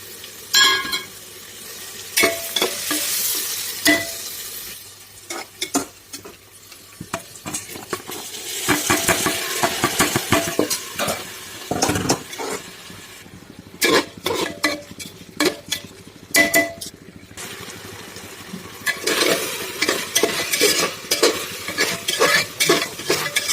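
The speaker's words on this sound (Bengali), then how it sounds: "চাল ডাল ভাজা করা হয়ে গেছে, পানি অ্যাড করে নেব।" Rice and lentils frying in a pan for dal khichuri, with repeated bursts of spatula scraping and stirring over a steady sizzle, and clinks of utensil on metal between them.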